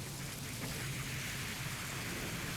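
Heavy rain with strong wind pours down in Lonar, Buldhana district, a steady quiet hiss of drops and wash holding evenly throughout with no voices.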